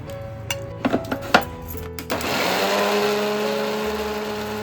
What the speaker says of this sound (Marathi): आता मिक्सर मध्ये सर्व घालून घेते आणि पेस्ट बनवून पूर्ण बारीक पेस्ट करायची